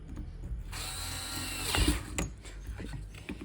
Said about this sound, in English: And now let's tighten the screws.